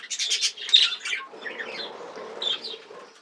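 Texas clearbody budgerigars in an aviary give a burst of harsh, overlapping squawks and chirps close by, then a busier, softer stretch of chatter and calls behind it.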